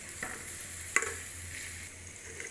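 Onions frying in a pan until brown, a steady close sizzle with a small clink of a utensil partway through, no talk.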